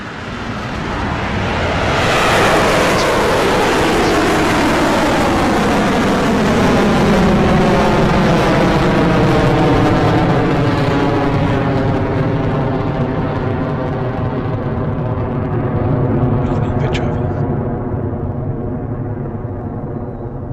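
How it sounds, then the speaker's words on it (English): Rocket liftoff: a huge, deep rumble that swells over the first couple of seconds, holds loud and sustained with crackling roar, then slowly recedes as the vehicle climbs away. "Liftoff."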